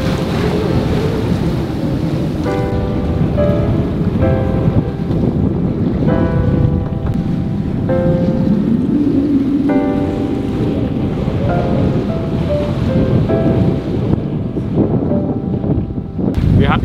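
A Sirius 310 DS sailboat motoring through light rain with no wind, the engine's low steady drone continuous throughout, overlaid by wind buffeting and water noise, with faint tonal chimes recurring at intervals.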